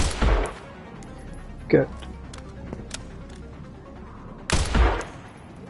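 Game gunfire in Resident Evil 9, with two loud close shots and a fainter crack between them, under a voice talking.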